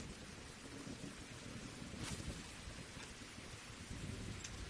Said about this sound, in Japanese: あ、ちゃんと雨が降ってきた。